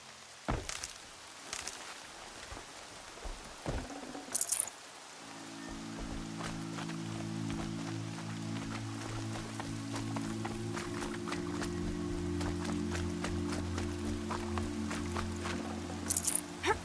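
Rain in Horizon Zero Dawn Remastered falls as a steady, soft hiss, mixed with a few scattered taps and thumps early on, then a low sustained droning tone for the rest.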